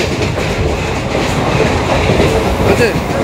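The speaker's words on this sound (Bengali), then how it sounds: "ট্রেনের বর্তমান স্পিড এখন দেখুন 90-এর নিচার নামছে না।" A local train from Barddhaman to Howrah rattles along at about 90 km/h with a constant loud rumble and rhythmic clickety-clack of wheels on track, close by.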